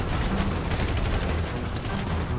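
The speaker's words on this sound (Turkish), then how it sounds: "Kime ateş etsem, kurşun kime değse patlıyor abi." Gunfire in GTA 5 with targets exploding on impact, a dense continuous barrage of shots and blasts filling the clip at steady loud level with no let-up.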